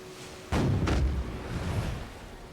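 Two heavy cannon blasts from a Caravel ship in Black Desert Online fire in quick succession, then a low rumbling boom lingers over steady background noise.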